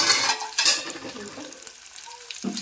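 Garlic and chopped vegetables frying in oil in a home kitchen, with soft crackling sizzle and a few clinks of a spoon stirring against the pan, short and close.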